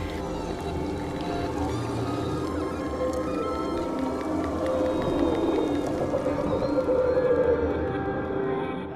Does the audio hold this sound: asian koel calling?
no